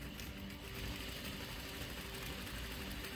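A sewing machine runs steadily while stitching swimsuit fabric, a quiet, continuous mechanical whir with a low motor hum and no talking.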